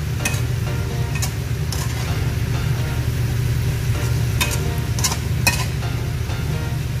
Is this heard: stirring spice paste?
yes